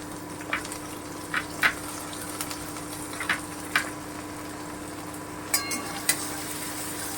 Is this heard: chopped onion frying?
yes